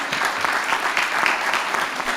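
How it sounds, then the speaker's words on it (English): Audience applause at a Diaspora Homecoming forum panel, a steady, dense clapping from a crowd that stays even and fairly loud throughout with no pauses. "Let's give him a round of applause"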